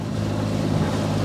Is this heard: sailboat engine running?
yes